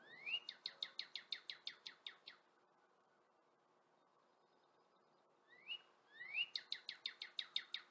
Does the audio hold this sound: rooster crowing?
no